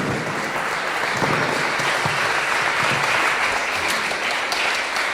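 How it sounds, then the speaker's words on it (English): A large conference audience gives steady, dense applause for a climate speaker, Professor Rupert Read, sustained evenly throughout without any voices over it. "Let's give him a round of applause."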